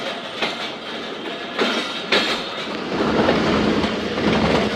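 The 130 Dn Thal Express rolls along its rails through mountain country, a loud continuous rumble with rhythmic clickety-clack from the wheels that grows heavier and fuller toward the end.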